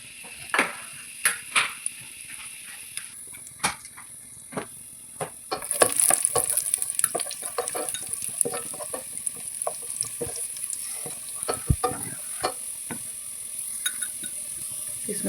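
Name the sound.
raisins frying in ghee in a pan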